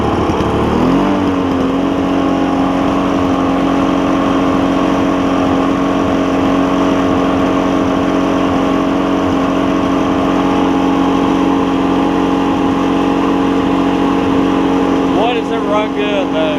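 A Toro push mower's 2-cycle Suzuki engine runs steadily at close range, a loud constant buzzing drone that holds an even pitch throughout, with a brief burst of extra noise near the end.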